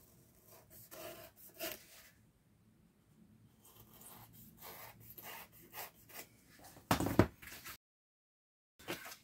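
Hand sawing of wood along a cutting template, with short irregular rasping strokes and pauses, closing in a brief vigorous burst before falling silent.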